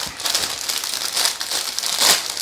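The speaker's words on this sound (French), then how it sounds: "Allez, on déballe." Plastic Lego set packaging being unwrapped, a close run of crisp crinkling and crumpling with a few louder rustles.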